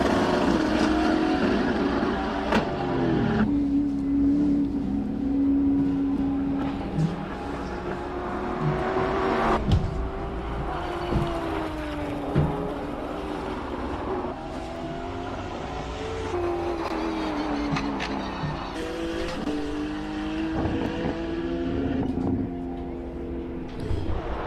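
Race cars roar up the Simola Hillclimb at a King of the Hill event, engines revving hard and shifting through gears, loud and continuous, with a commentator talking over the noise.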